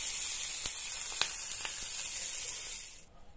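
Curry leaves, dried red chilli and asafoetida hit hot oil in a tempering for a kadhamba chutney, giving a loud, steady sizzle and hiss with a few sharp pops, cutting off abruptly near the end.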